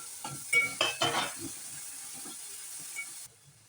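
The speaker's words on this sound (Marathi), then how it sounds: "हेही आपण छान परतून घेऊया." Tomato and ground masala paste sautéing in a pan for a matar masala curry, with a soft sizzle and spoon stirring scrapes in the first half, then a steady hiss that drops away near the end.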